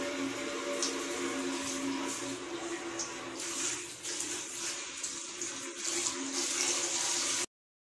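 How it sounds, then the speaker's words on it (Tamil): Steady rushing water from a forceful tap or hose washing out a fish tank, a continuous splashing hiss close by with small gurgling shifts, running alone until it cuts off abruptly near the end. "நல்லா ஃபோர்ஸாக தண்ணி வச்சு கழுவணும்"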